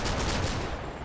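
Video game gunfire, a dense burst of rapid automatic shots lasting about a second, loud and continuous.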